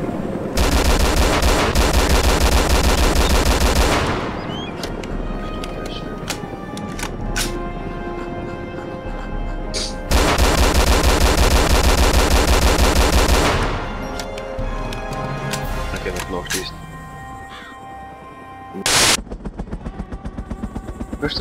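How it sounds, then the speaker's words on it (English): Rapid automatic gunfire in the video game DayZ, fired at a helicopter: long dense bursts, loud and close, with pauses between volleys and a final sharp shot. "I shot one out of the copter, out of the helicopter."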